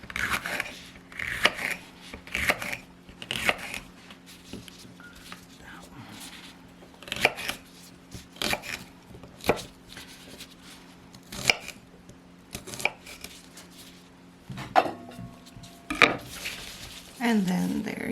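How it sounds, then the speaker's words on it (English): Peppers being cut for pickling produce repeated sharp knife chops and clicks on a board, arriving in irregular bursts with small clatters of utensils between them. "So we're all done cutting the peppers."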